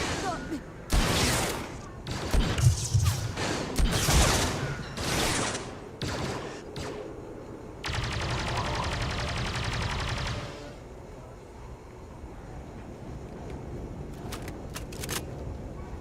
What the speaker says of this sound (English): Y'all just keep shooting at us.